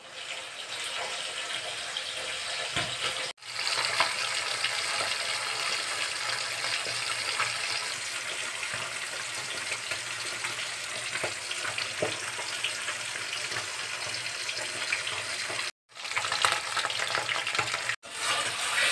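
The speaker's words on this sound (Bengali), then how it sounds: "তারপরে মাছগুলো ভেজে নিচ্ছি" Fish sizzles and spits in hot oil in a pan on a gas stove, a loud, steady frying hiss with small crackles and a few brief breaks, no talking.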